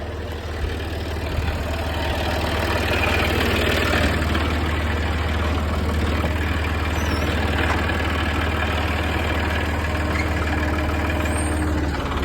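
A tractor engine runs steadily while plowing in spring, a constant low diesel drone close by with faint mechanical rattles over it and no talking.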